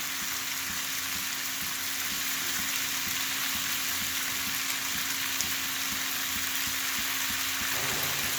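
Spices sizzling in hot oil for a fish curry, a steady soft crackling hiss with a faint constant hum underneath and no voices.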